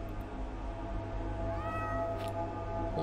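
A cat in The Excavation of Hob's Barrow lets out a couple of rising meows, the main one drawn out, over a steady low game ambience with no talk.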